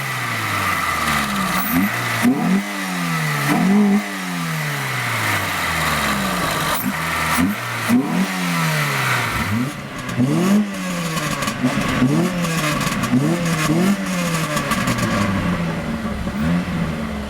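A Renault Clio's 1.2 engine fitted with an aftermarket air filter revs repeatedly, loud and close, each blip rising and falling in a steady series of throttle pulls.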